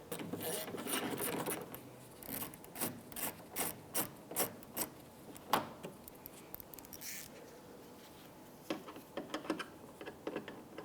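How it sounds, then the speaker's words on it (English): A Phillips head screw being backed out of a 2001-2005 Honda Civic tail light, heard as a run of close, rhythmic ratcheting clicks and ticks with brief pauses between turns, fairly quiet, with no speech. "Right below, we have a Phillips head screw. I'm going to go ahead and remove this."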